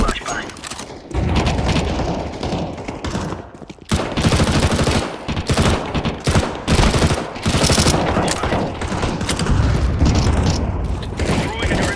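A tactical counter-terrorist shooter game erupts with a loud flashbang blast and repeated bursts of gunfire and booms, while voices talk over the action.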